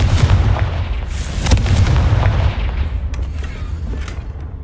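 Confringo spell blast in Hogwarts Legacy on PC, a loud booming explosive burst with a sharp crack near the middle, trailing into rumbling crackle and debris that fades over several seconds.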